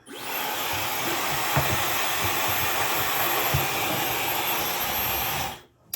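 A hair dryer runs on medium heat and medium air, a steady, loud whooshing roar held for several seconds before it cuts off abruptly.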